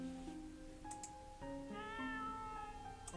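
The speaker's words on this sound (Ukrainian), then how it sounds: "Це кіт?" A cat meows repeatedly in the video game Rakuen, several short, clear calls over soft, sustained game music tones.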